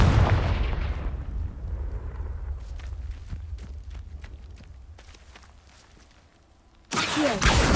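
A Confringo spell explosion in the video game Hogwarts Legacy: a loud, dense blast opens, scattered sharp clicks and thuds follow, and a second heavy burst erupts near the end.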